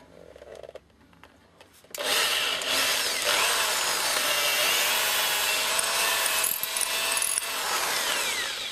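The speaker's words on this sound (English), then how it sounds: "it's as simple as taking one out, drilling it through the second side" A power drill bores a pin hole through knife handle scales held in a clamp and vise. A short quiet start gives way to a loud, steady whine that runs close and unbroken for several seconds.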